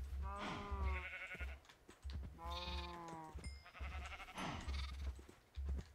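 Sheep in Minecraft bleat repeatedly at close range, several wavering calls in a row, loud and clear with no talking over them.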